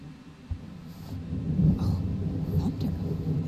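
A low rolling thunder rumble from a thunderstorm in the video game 12 Minutes, starting with a sharp low thump and swelling into a sustained deep grumble, with faint higher crackles above.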